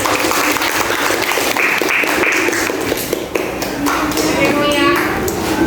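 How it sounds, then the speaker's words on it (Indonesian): Classroom of students applauding a presenting group, a continuous clatter of hand claps with tapping and shuffling, voices chattering underneath throughout. "beri tepuk tangan sekali lagi untuk kelompok 1"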